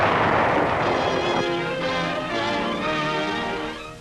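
Heavy WWII battle gunfire and explosive blasts from Iwo Jima, a dense rumbling barrage with booming detonations layered over crackling fire for a few seconds, loud and slightly fading.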